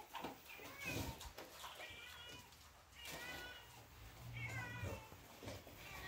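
A cat meows several times while someone speaks Portuguese nearby on a farm, the mews rising above her voice in short, harmonic calls at moderate distance.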